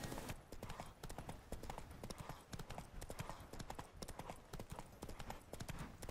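Horse hooves in a video game, rapid rhythmic clip-clopping of a ridden horse at a steady gait, close and continuous throughout.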